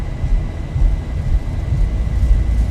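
Airplane engines roar at takeoff power in the X-Plane 11 flight simulator during a night flight, a loud, continuous low rumble with a faint steady whine above it.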